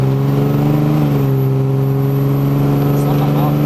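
Cummins diesel truck engine running loud and steady close by, a strong low drone with a faint high turbo whistle rising near the end.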